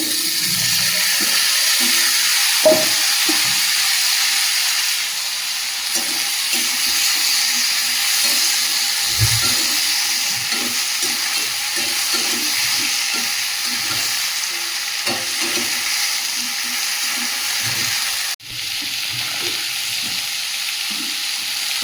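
Cut bitter gourd, potato and eggplant sizzle steadily in a pan of hot oil, with a continuous loud frying hiss broken by occasional clinks and stirring knocks, and no talking.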